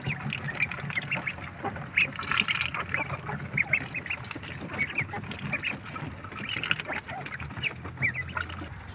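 Muscovy ducks eat feed nearby, with frequent soft quacks and honks over a busy bed of pecking and shuffling that carries on throughout.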